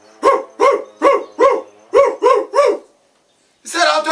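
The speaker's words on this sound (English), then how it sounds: "Is that our doggy?" A dog barks seven times in a steady, evenly spaced rhythm, close and loud, then pauses before a final louder burst.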